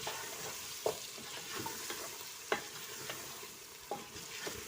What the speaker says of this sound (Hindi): ये हमारे गोश्त की भुनाई हो रही है